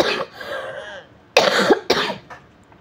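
A woman coughs a few times, with a burst of rough, breathy coughing after a stretch of low vocal sound, close and fairly loud.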